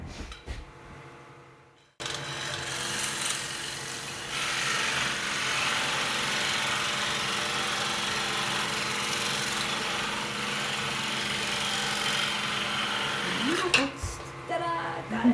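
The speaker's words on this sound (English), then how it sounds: "If I just do a little more sanding on that" A power sander works on pretty wood in an artist's studio, starting abruptly after a quiet moment and running as a steady, loud, gritty whine for about twelve seconds before stopping.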